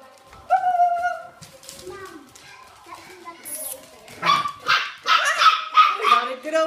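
Shamisha puppies barking and yipping in short bursts, building to a lively cluster of overlapping yaps toward the end, with adults talking and cooing over them throughout.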